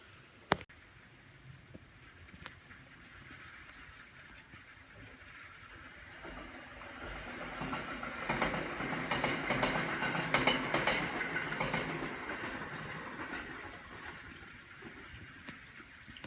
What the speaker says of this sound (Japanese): 8時の段階ではまだ電車通ってますね。